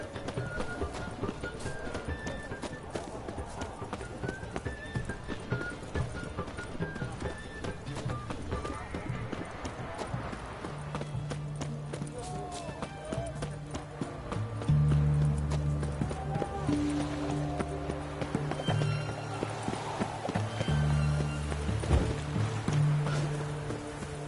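A horse gallops in The Witcher 3 with a steady, rapid clip-clop of hooves throughout, layered with game music and occasional voices.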